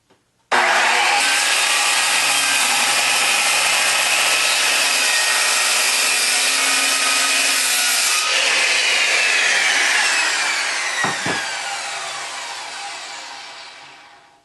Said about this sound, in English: I'm going to rip it in the direction of the grain